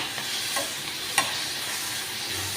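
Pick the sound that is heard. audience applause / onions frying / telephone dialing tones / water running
onions frying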